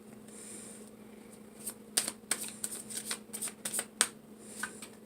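Sticky tarot cards being shuffled by hand, a quiet riffle that builds into a burst of sharp, flapping card snaps heard close and alone.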